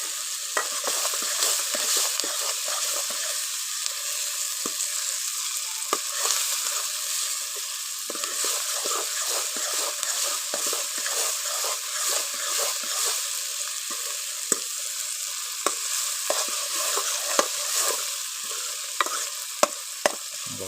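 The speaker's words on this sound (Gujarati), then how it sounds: "મસાલાને થોડાક વાર પકવવાનો છે આપણે" Masala for sev tameta curry fries in a hot pan, a dense continuous sizzle with frequent sharp scrapes and taps of a spoon stirring against the pan, steady and close.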